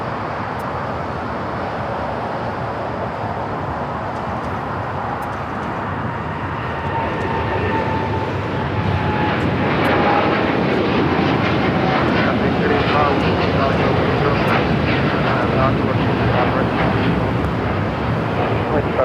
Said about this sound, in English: the United Dreamliner heading to Tokyo Narita